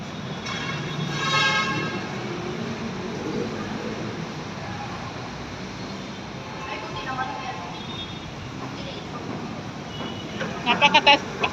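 A light rail train's steady rumble and rattle carries on beneath people talking, with a few sharp clanks near the end, riding LRT Line 2 in Manila.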